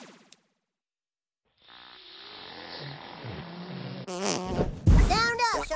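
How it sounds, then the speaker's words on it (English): A cartoonish fart effect from the South Park: The Stick of Truth video game rips out loud and close after a quiet stretch, followed by a high, squealing buzzy tail amid background game noise. "It's not like he farted into his hand and hit you in the face with it"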